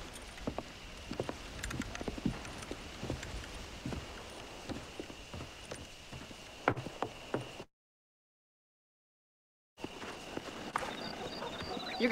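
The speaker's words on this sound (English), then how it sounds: "Let's see if we can wrangle some horses." Horses clip-clopping across the ground in Red Dead Redemption, with irregular hoof impacts and footsteps over a quiet outdoor ambience, briefly cut to silence before resuming.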